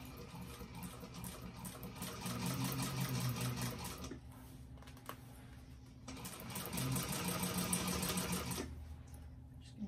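A sewing machine stitches through a bag, running in two long bursts of steady, rapid stitching separated by a short pause, close and clear with no talking.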